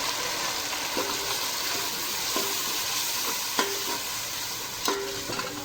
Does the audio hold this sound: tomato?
yes